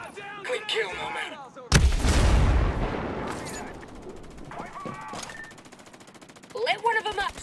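A grenade blast and gunfire in the Ghost Recon Breakpoint SWAT-style gameplay: a loud, close burst erupts after a few earlier shots, rumbling and decaying for several seconds before more crackling fire returns near the end.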